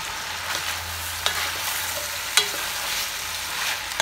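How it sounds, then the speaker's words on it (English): Lamb and vegetable soup ingredients stirred in a pot give a soft continuous sizzle with a few sharp scrapes of the spoon against the pot, close and without talk. "So we've got a good stir around."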